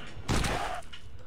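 A single heavy shotgun blast booms in the top-down shooter Larva Mortus, a sharp burst with a short rumbling tail, up close and loud over quiet game ambience.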